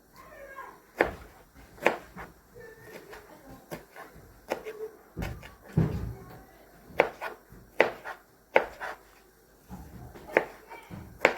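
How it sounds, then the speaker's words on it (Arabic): A knife cuts tomatoes into cubes on a board, making a series of sharp, uneven, close chops with short pauses between them. "هنقطع الطماطم مكعبات كده حلوة كده"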